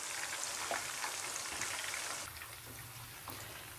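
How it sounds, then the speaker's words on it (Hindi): Pieces of fish fry in hot oil, Lahori restaurant style, giving a steady, close, dense sizzle with crackling pops that softens slightly partway through. "और मैंने इन दूसरी तरफ भी मैं 1 मिनट के लिए इसको फ्राई करूँगी।"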